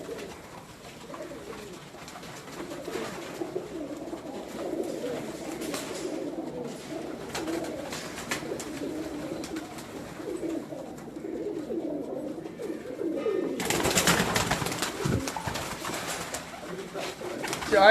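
Pigeons coo steadily in a low, murmuring chorus that runs throughout, with a busier burst of noise near the end.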